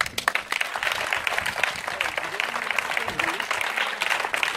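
Church congregation applauding during a deliverance service, dense rapid clapping throughout with voices and cheering mixed in.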